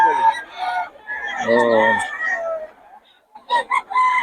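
A rooster crows loudly and close by, its drawn-out call rising and falling, with short clucks and a brief voice around it.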